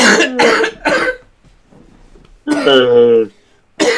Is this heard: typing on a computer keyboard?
no